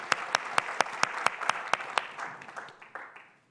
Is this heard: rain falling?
no